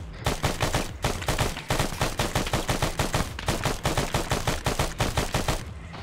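Rapid gunfire in a combat firefight, dense bursts of shots cracking near and loud in quick succession, nearly continuous across the whole stretch with only brief gaps.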